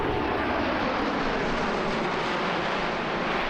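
A large cargo aircraft flies over the EAA AirVenture Oshkosh 2018 air show, its engines making a steady, loud, unbroken roar with no voices.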